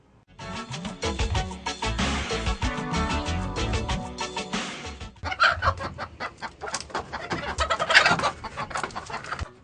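Many hens cluck and squawk together close by in a henhouse, a busy, overlapping chorus that rises and falls throughout.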